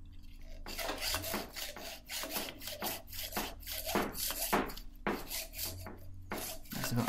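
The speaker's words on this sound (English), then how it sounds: "looks like we're going to have to resort to the good old hacksaw" A hacksaw works through a metal part of a hydraulic ram in a series of steady, close, rasping back-and-forth strokes, about a dozen in a row, with a low hum underneath and no talk.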